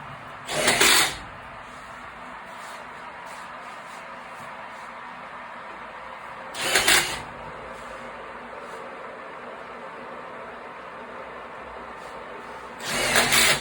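A power drill driving screws into a water heater during installation, heard as three separate brief whirring bursts spaced several seconds apart over a low background hum.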